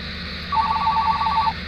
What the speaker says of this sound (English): Oh, looks like I'm getting a phone call here.